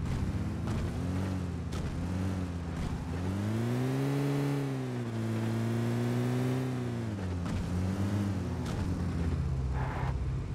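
A vehicle in PUBG driving past, its engine rising and falling in pitch as it approaches, passes close and recedes, loud and steady with no talk over it.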